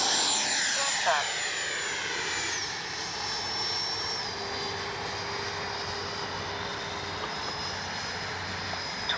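An FMS Integral 80mm RC jet flies an approach, its electric ducted fan giving a steady whine with falling pitch sweeps as it passes at moderate distance, a continuous high hiss running throughout.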